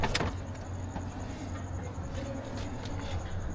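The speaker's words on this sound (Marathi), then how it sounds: "आली क्रुझर गाडी खतरनाक आहे राव" Driving through the Konkan region, a Cruiser vehicle passes with a steady engine and road rumble throughout, close and moderately loud, while people talk over it.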